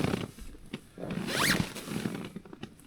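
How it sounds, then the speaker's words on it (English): A tent door zipper on a Durston X-Dome 1+ being pulled in high winds, one long zipping rasp rising mid-way, close up, amid rustling fabric and gusty background noise. "it's the easiest zip that I've ever had on any tent"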